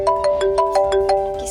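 A mobile phone ringtone sounds loud and close for an incoming call, a repeating electronic melody of short bright tones pulsing in a steady quick rhythm.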